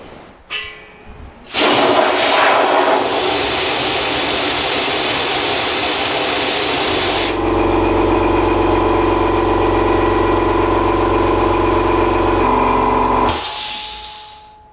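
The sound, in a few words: Swan 30 litre low noise air compressor charging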